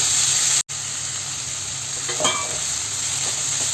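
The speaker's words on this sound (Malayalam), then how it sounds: "നന്നായിട്ട് ഇളക്കി ഇതെല്ലാം മിക്സാക്കി എടുത്തിട്ടുണ്ട്" A banana flower thoran stir-fry sizzles steadily in a pan while it is stirred, a close hissing fry broken by a brief cut and a few soft scraping stirs.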